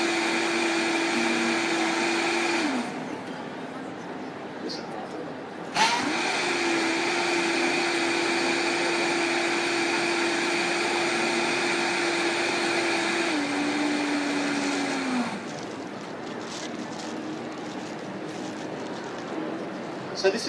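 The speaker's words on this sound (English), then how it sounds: "As you can hear, it's a very powerful blender." A powerful blender whirs loudly, blending tea into nut milk with a steady high motor drone that dips in pitch as the load changes, briefly cutting and restarting, running continuously for about twenty seconds.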